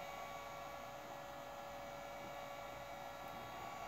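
A heat gun blowing hot air on foam for a cosplay helmet, giving a steady, even whirring hiss with a high tonal whine that holds unchanged throughout, with no voices.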